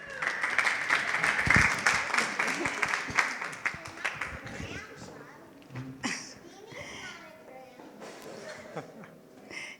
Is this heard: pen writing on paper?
no